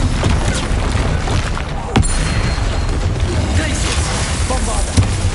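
Bombarda spell blast in Hogwarts Legacy: dense rumbling combat noise with a sharp explosive crack near the two-second mark and another impact near the end, loud and close, with faint speech mixed in.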